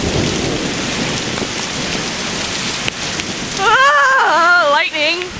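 Heavy rain pours down during a thunderstorm, heard from a porch: a loud, continuous roar of rain with a thunder crack partway through, then a person's voice rising over the downpour near the end.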